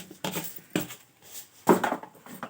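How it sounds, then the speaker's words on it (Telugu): Cumin and mustard seeds dropped into a hot pan while cooking roti noodles, giving a few brief clattering, crackling bursts spaced across the moment, close and moderately loud. "ఇక జీలకర్ర ఆవాలు వేసేస్తున్నా"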